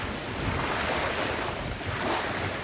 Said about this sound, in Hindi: पानी में इस तरह की वेव्स उठ रही हैं कि जैसे ओशन में उठती हैं।